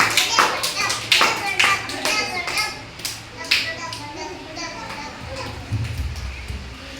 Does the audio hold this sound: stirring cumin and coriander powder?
no